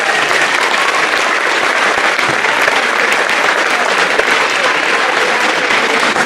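A roomful of people at a middle school awards ceremony claps loudly and continuously up close, a thick, unbroken wash of applause throughout.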